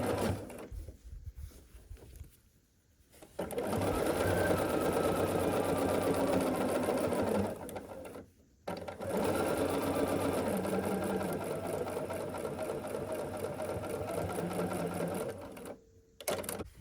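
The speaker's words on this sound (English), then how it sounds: "we're going to sew this long seam here" Sewing machine stitching a long seam on a scrappy sampler quilt block, a steady fast mechanical whir that stops and restarts, running in long bursts with short pauses between, close and clear.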